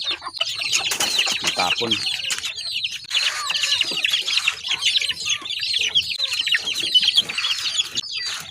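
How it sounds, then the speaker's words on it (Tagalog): Month-old chicks cluck and chirp busily while being fed grain, with overlapping high-pitched calls close by, a brief flutter of wings and someone speaking intermittently over them. "Papatokan muna tayo ng mga alaga natin mga birds."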